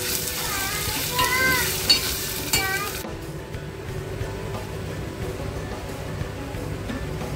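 Misal masala, turmeric, onion-garlic paste and Malvani masala sizzle with onions in a pan for misal. A steady frying hiss runs under stirring, with a few utensil clinks early on.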